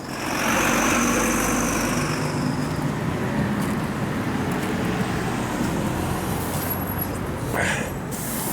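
City bus engine idling at a crowded stop during a tram breakdown: a steady, loud low-pitched rumble with surrounding street traffic noise and a faint high whine near the end.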